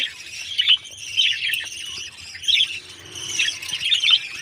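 Yellow pet birds chirp and tweet in quick bright bursts, several clusters of high calls spread through the moment, fairly close and alone with no voices.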